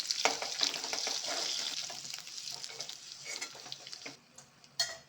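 Drumstick and potato pieces fry in a pan, a soft continuous sizzle with light stirring clinks and scrapes, close by and fairly quiet, ending with a sharper knock.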